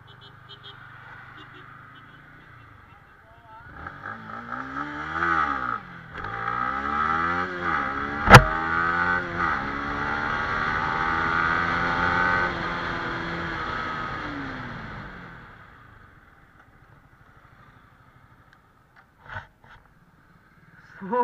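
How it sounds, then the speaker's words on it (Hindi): A Yamaha MT-15 motorcycle makes a quick launch from a standstill. Its engine note climbs loudly through several rising sweeps as it shifts up, holds a strained high pitch, then fades as the bike pulls away. "अब यहाँ से क्विक लॉन्च लेते हैं MT का।"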